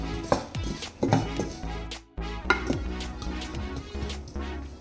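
A utensil stirs cinnamon-sprinkled apple pieces in a pan, giving a string of close clacks and scrapes against the pan with a brief pause partway through.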